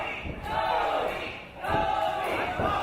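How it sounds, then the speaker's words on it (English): Wrestling arena crowd chanting for CTC in loud rhythmic swells, two strong bursts separated by a brief dip, with thuds and ring noise mixed into the roar. "the crowd chanting for CTC"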